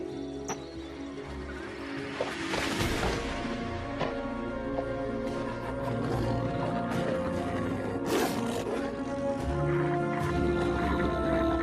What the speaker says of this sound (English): the men are surrounded by a pack of wolves